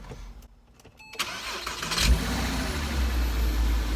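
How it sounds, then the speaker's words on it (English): A Porsche Cayman with its engine cover removed and rear hatch closed starts up, a short cranking whir followed by the engine catching into a loud, close, low rumbling idle heard from inside the car. "First start up with no engine cover and the back hatch closed."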